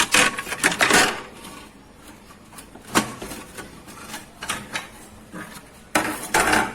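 Plastic motorcycle body kit pieces being unclipped and pulled off, giving sharp clacks and knocks in irregular bursts, loudest at the start and end, close by with no voices.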